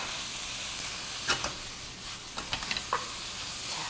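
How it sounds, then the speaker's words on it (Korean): Rice cakes stir-fried with vegetables and bean sprouts, a soft sizzle under scattered scrapes and taps of a spatula in the pan, fairly quiet with no talking. "떡을 넣고 볶다가 요 채소들을 섞어 보도록 하겠습니다"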